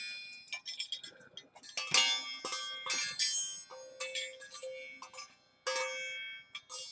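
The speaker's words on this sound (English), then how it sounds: "I love wind chimes." Wind chimes ring with bright, high metallic tones in scattered strikes that overlap and fade, some clusters louder than others, heard close in a quiet room.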